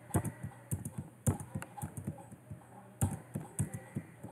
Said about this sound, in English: just clicking the tab key will move the cursor to the next cell